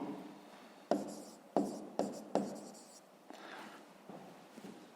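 A pen writes on paper during a fifth-grade maths exercise, with several sharp taps and scratchy strokes in quick bursts, then softer scribbling fading out.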